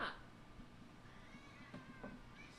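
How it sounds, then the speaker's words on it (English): A house cat meows a few times, faint and somewhat distant, over a low steady background hum with no talking. "oh my God, this fucking cat."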